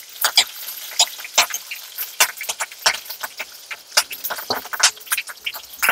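Green chilies and cumin sizzle in hot oil with mustard seeds, a close, crackling patter of sharp pops and spits repeating irregularly throughout.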